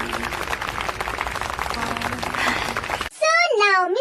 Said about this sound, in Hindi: सब ताली बजाते हैं